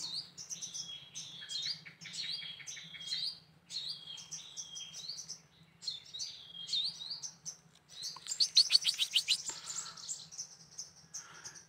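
Newly hatched sogon and emprit kaji chicks chirp in the nest, thin high repeated peeps in clustered bursts, close but faint over a low steady background hum.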